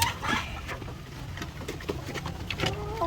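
Egg-laying farm hens feeding, with soft scattered clucks and pecking patter close by, fairly faint and steady.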